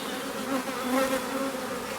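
Honey bees on a hive frame buzz steadily in a dense, close hum with slight rises and falls in pitch, with no talking over it.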